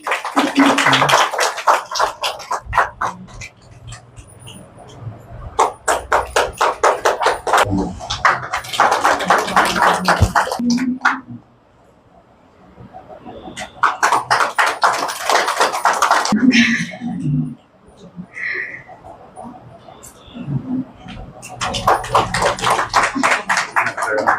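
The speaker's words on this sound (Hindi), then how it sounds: "ताली तो बजाओ सभी" Bursts of rhythmic hand clapping from a group at a Brahma Kumaris Bhai Dooj birthday celebration gathering, several loud rounds separated by short pauses, with some voices and singing in between.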